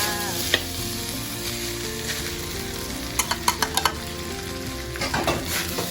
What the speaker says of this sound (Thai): ผัดหมูมาได้ทีแล้วเนาะจนมันแห้งมันสุกแล้วเนาะ